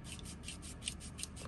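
Rhythmic strokes of 80-grit sandpaper reaming out an antenna hole in a plastic Baofeng radio case, about a dozen quick, close rasping passes in steady succession with no talking.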